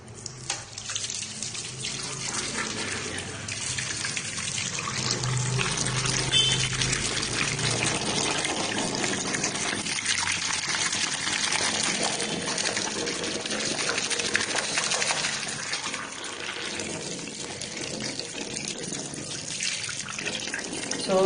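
Water running from a tap over a PS2 game disc being washed, a steady close splashing gush that continues without pause for the whole stretch, with slight shifts as the disc moves under the stream.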